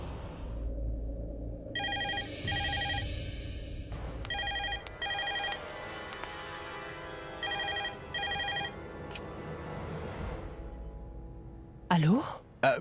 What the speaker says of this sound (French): si le téléphone sonne, je dois décrocher